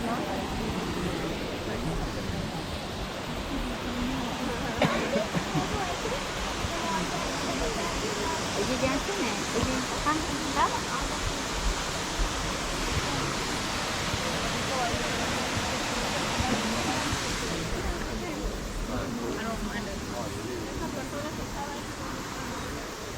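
Rainbow Falls waterfall at Kerikeri, New Zealand: a steady, broad rushing roar of falling water, continuous and moderately loud, with a person speaking over it.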